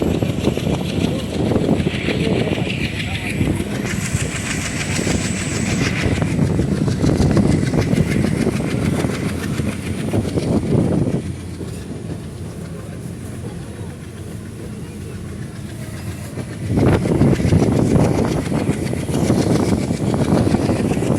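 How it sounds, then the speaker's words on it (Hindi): The locomotive engine of the Porbandar Express drones loudly up close from the front coach with a steady rumble and some rattling, easing briefly before surging again; voices are faintly audible underneath. "आप इंजन की आवाज़ सुन सकते हो गाइस"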